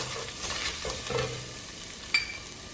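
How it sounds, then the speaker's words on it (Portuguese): Garlic, with onion to follow, fries quietly in a pan. A faint, steady sizzle carries on with a few soft stirring touches and one brief clink, and no voices. "e vou fritar"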